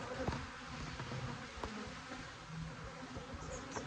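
Honey bees buzz steadily in a bee yard during the first hive inspection of the year, a dense continuous drone heard close up, with no talking.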